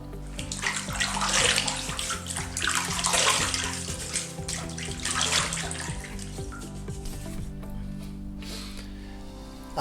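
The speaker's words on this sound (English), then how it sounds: "Firstly, wash the face in warm water, never hot water." Warm water runs from a tap into a basin as a face is washed before a safety-razor shave, a continuous splashing rush with frequent close hand splashes that eases off near the end.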